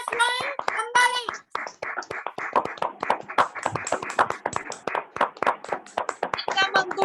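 An audience claps to welcome a speaker, Ankur Verma from Ambala, onto the stage at a leadership talk event. A sustained patter of many hands follows an opening voice and continues steadily, with voices mixed in.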